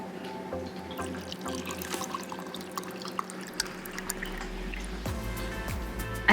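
Tea is poured into a glass holding lemons, a close, steady liquid pour with bright dripping and trickling tones, ending with a short splash.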